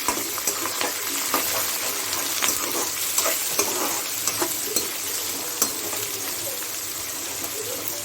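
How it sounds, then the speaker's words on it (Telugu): Curry leaves, onions and green chillies fry together in hot oil with already-fried peanuts in a pan, giving a steady, close sizzle broken by light scraping and clinks of stirring, with no talking. "కరివేపాకు 3 ఒకేసారి వేసేస్తున్నాను."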